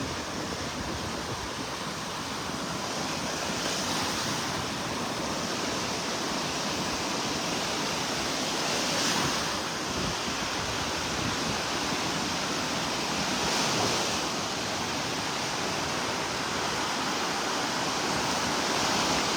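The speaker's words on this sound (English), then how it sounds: "Boy, those waves are loud." Gulf of Mexico waves wash onto a North Naples, Florida beach in the early morning, a constant broad hiss with gentle swells of louder surf every few seconds and no voices.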